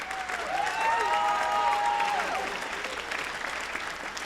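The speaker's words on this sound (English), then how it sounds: "please give Mr. B a round of applause" Audience applause fills a spring band concert hall at high school, a steady dense roar of clapping with a few whistles and cheers rising over it and holding loud throughout.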